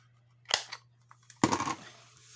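Scissors cut paper for a handmade scrapbook mini album: two distinct close snips separated by a pause, quiet and crisp over a low steady hum.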